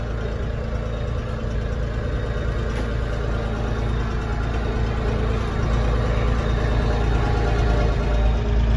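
Tractor engine running steadily for several seconds, a continuous broadband mechanical drone with low rumble, close and fairly loud, heard alone with no talking.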